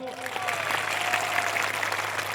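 A crowd at a political rally in Naswadi, Gujarat claps for police officers: a steady, dense patter of applause holds throughout, with a low hum and a faint amplified voice running underneath.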